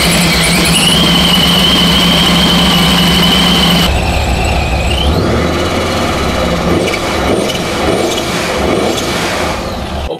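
An engine fitted with Holley Sniper fuel injection fires up and settles into a loud, steady idle, with a continuous rumble and a whining tone that shifts partway through.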